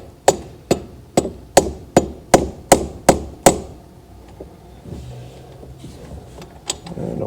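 Nine sharp, evenly spaced metallic knocks ring out as a fuel injector is tapped down and bottoms out in its cup on an OBS 7.3 Powerstroke diesel, followed by quieter shuffling and one last faint tap.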